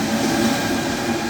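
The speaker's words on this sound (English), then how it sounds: "I'm on the metro on the way to the airport." Inside a rubber-tired Mexico City metro train running on rails, a loud, steady rolling rumble and roar fills the car without a break, with no voices.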